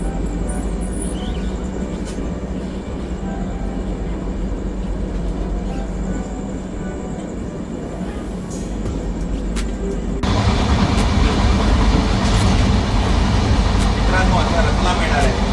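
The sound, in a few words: train running on rail tracks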